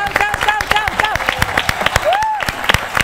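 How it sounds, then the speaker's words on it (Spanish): A final round of applause from the audience at the close of a charity show, with steady rhythmic clapping running throughout beneath loud singing-like voices and calls. "el aplauso final para todos ustedes."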